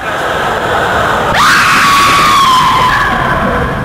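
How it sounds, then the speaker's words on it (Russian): A woman's sudden loud scream bursts out in the indie horror video game Paranormal, rising sharply and then holding as a long, wavering shriek over quiet background ambience. "Вау, зачем так кричать, тетенька?"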